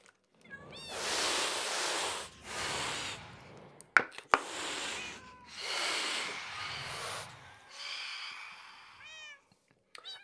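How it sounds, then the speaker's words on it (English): A cat in the game Minecraft lets out a series of drawn-out meows and snorting, hissing breaths, several separate calls spread across the stretch with quiet gaps between them. "If anyone's got a cat, I'm pretty sure you've heard that sound a couple of times."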